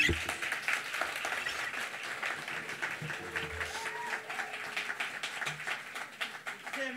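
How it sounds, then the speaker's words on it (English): Audience applause follows a song at a memorial concert, a steady moderate wash of clapping from a crowd that runs the whole stretch with scattered louder claps and a faint voice underneath. "Come on, one more round of applause."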